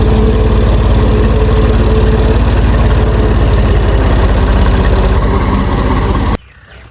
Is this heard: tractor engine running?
yes